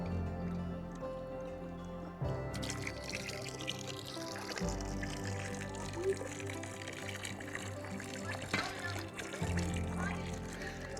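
Water from a well pours and splashes steadily into bottles, filling continuously with gurgling and trickling, while a voice talks over it.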